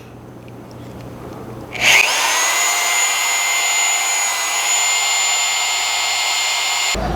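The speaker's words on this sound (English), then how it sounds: "I'm going to take my Jiffy mixer and place it right in part B and mix that product as well." A drill with a paddle mixer whirs up abruptly and runs steadily at high speed for several seconds, churning as it mixes part B of an epoxy primer, then cuts off sharply.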